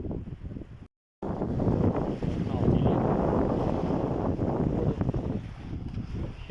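Strong wind buffets the microphone on the Volga River in September, a loud continuous roar with broad gusty rumble, briefly cut out near the start, while a boat sits nearby on the water.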